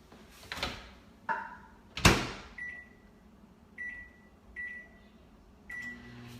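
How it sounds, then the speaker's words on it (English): A microwave door opens and thumps shut, then the oven beeps several times at steady intervals, with clicks in between, while heating butter for a few seconds. "So I am going to put this dollop of butter into the microwave for just a few seconds."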